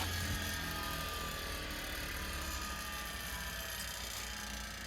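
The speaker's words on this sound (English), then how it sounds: "Takes it a little while to spool down, but I can live with that." An old bench grinder spooling down after being switched off, with a steady mechanical whir and hum that slowly fades, close and continuous, with no talking.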